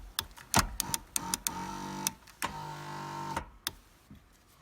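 A lubricated car power seat motor whirs in short bursts and one longer run, broken by sharp clicks and knocks, close by with no speech.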